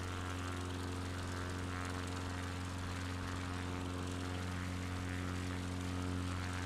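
XCub light propeller plane climbing in a flight simulator game, its engine holding a steady, loud, buzzing drone with a constant pitch for several seconds and no speech over it.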